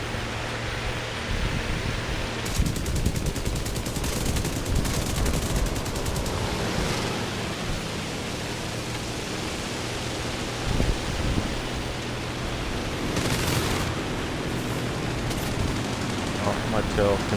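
Machine guns from the aircraft's gunners fire in War Thunder, with rapid stuttering bursts rattling over a constant roaring drone of engine and wind, loudest in the first several seconds and again briefly near the end.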